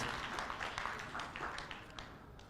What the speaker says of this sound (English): let's give a round of applause to this 7 of brothers and sisters